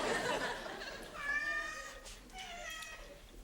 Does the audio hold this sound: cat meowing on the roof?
yes